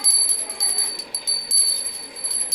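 A small hand bell gripped by a pet dog standing on its hind legs rings in bright, repeated metallic jingles that come in uneven bursts throughout, fairly close and clear.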